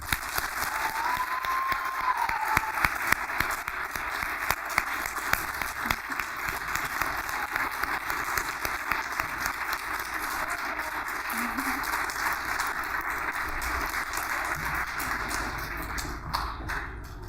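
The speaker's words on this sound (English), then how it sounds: "we think we should give another round of applause to Rosario and her family" At a school hero award ceremony, an audience applauds an honoree and her family with sustained, even clapping from a room full of people, and faint murmurs drift underneath.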